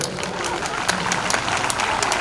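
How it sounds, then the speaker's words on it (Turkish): A crowd claps at an Ashura gathering at a cemevi in Toroslar, with sharp, brisk hand claps under a steady murmur and some voices mixed in. "Evet, alkışlıyoruz."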